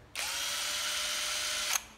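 A National AZT 108 cordless drill, a Japanese-made battery model, whirs steadily at close range for about one and a half seconds with a clean start and stop, no talk over it.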